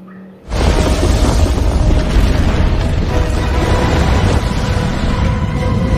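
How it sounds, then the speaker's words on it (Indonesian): A bomb blast triggers a snow avalanche: a sudden deep boom erupts and gives way to a sustained, heavy roaring rumble that stays loud and steady, like a massive rush of snow and debris. "Ledakan bom pun terjadi yang mengakibatkan salju longsor."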